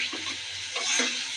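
Spices fry and get stirred in a pan while meat is being cooked, a brief close sizzle with soft scraping strokes of a spoon, no speech.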